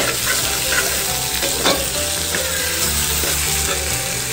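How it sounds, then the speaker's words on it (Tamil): Tomatoes and brinjal fry in a pan for a brinjal mutton gravy, with a loud, continuous sizzle broken by stirring scrapes and clacks of a spoon against the pan. "இப்போ வந்து நம்ம தக்காளி போட்டு நல்லா வதக்கிக்கலாம்"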